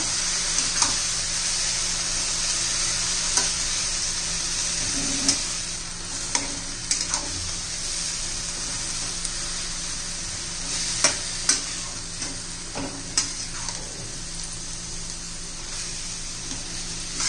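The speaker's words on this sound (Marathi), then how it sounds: "सगळं मस्त व्यवस्थित मिक्स करूया." Dill greens and gram flour being stirred in a frying pan, a steady soft sizzle with scraping strokes of the spoon recurring every second or two, close and alone with no voices.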